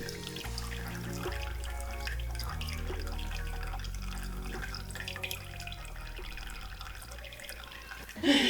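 Water trickles and drips steadily out of a homemade filter after passing through its layers, a soft continuous flow heard close up with faint background hum.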